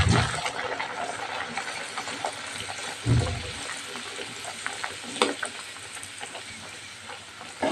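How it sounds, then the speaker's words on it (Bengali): Puris deep-fry in hot oil, one at a time, a steady bubbling sizzle with occasional louder bursts and clinks of a utensil, no one speaking. "তেলটা গরম হয়ে গেছে, পুরিগুলো একটা একটা করে ভেজে নেব"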